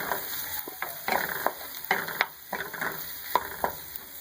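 Half a teaspoon of crushed red chilies fries in oil in a pan, a close sizzle broken by repeated sharp stirring clicks and scrapes at an uneven rhythm.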